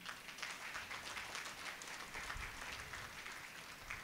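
Congregation at a church mass clapping their hands, a steady, fairly faint wash of applause from many people continuing throughout, somewhat distant.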